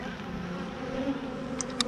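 Honeybees buzzing steadily on a heavy honey-laden hive frame lifted out during an inspection, a close continuous drone with a few sharper bursts near the end.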